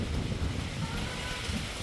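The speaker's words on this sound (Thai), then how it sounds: "ลมใช่เนาะ" Strong wind roars continuously across the microphone, a dense, gusty rumble with no break.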